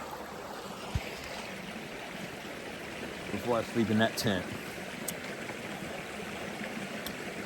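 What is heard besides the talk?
stream flowing beside a campsite on the Appalachian Trail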